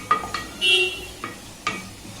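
Masala for dabba gosht frying in a pan with a soft sizzle, broken by several sharp scrapes and taps of a stirring spoon.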